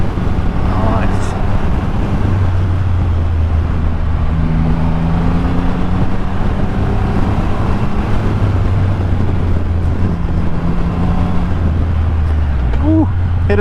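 Triumph Rocket 3 GT motorcycle in sport mode accelerating hard uphill, a loud, steady low engine drone with rising pitch sweeps as it revs through gears, heavy wind rush throughout and a rider talking over it.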